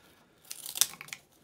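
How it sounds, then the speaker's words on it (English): Scissors snip through a thin strip of cardboard, a few quiet crisp cuts with a slight papery crunch heard close up and alone. "So I'm just going to cut out a little strip."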